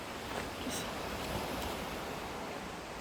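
Ocean waves along the Juan de Fuca coast on Vancouver Island, a faint, distant, steady wash of surf with light wind noise and no voices.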